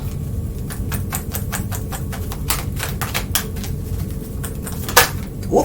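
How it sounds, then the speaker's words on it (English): Numerology cards being shuffled by hand during a tarot reading, a rapid close series of crisp riffling flicks over a steady low hum, ending in a louder snap as a card is pulled, with no talk. "I'm going to pull a numerology card here really quickly as well."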